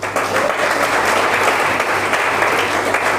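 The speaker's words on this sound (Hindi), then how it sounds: "इनके लिए ताली बजा दो।" An indoor audience at a leadership training session claps in a dense, sustained burst of applause that stays steady and loud throughout.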